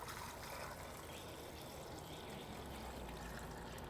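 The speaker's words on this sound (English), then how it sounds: "We'll get that covered with some cool water." Cool water runs steadily into a pot holding 2.5 pounds of red potatoes, a continuous close-up splashing pour with no talking.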